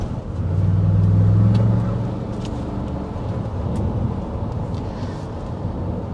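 A 2025 Ford Expedition Platinum with a twin-turbo V6 and 10-speed automatic accelerates from inside the cabin, its low engine drone swelling and then settling into steady road and wind noise.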